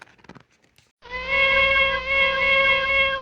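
A human voice imitates a small kitten's meow, one sustained, tonal mew lasting about two seconds, close and clear, after a moment of faint rustling.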